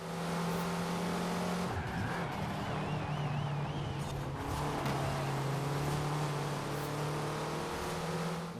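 Cars racing in Forza Horizon 4, with engines droning loudly and steadily throughout, tires squealing and skidding, and a rising whine of acceleration.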